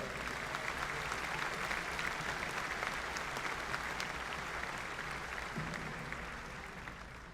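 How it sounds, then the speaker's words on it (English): Audience applause for campus staff at the SIUC 2022 spring commencement, a large crowd clapping in a dense, continuous roar that holds steady and then slowly tapers off toward the end. "Please join me in giving them a big round of applause for their contributions as well."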